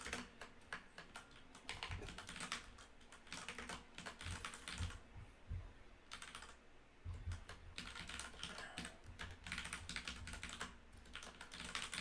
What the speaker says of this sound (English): Normally I won't be doing this much typing on this.